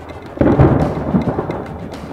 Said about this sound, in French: l'orage active vraiment beaucoup d'activités électriques qui frappent les éoliennes qui sont juste devant nous.